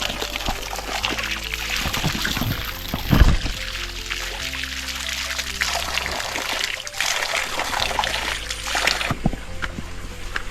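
Clear water pours and trickles in a stream at a tribal village in Tripura, Northeast India, a loud, close, continuous splashing flow with shifting gurgles and a brief stronger surge.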